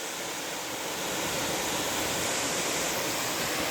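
Waterfall at Ash Cave pours in a steady, dense rush of falling water, constant and fairly close, with no voices.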